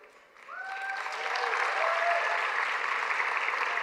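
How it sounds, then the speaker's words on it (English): Audience applause at an awards ceremony honouring winners and finalists, swelling from a quiet start into steady, sustained clapping that fills the room, alone without talk. "Let's give a big round of applause to all of tonight's winners and finalists."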